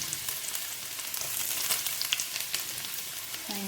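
Garlic, onion and ginger fry in hot oil with a steady, close sizzle, crackles popping through it and a brief scrape of stirring near the end, with no voices.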